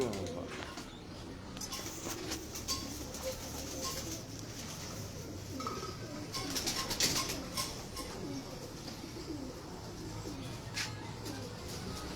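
A Ferozpuri female pigeon sitting on eggs coos in soft, repeated low calls, with a faint voice and light rustling in the background.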